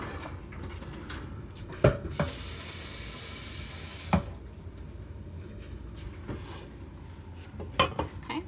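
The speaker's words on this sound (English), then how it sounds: "just gonna whisk this up" Blueberry cobbler batter whisked in a bowl, a soft steady scraping broken by a few sharp clinks of the whisk against the rim, with a brief hiss partway through.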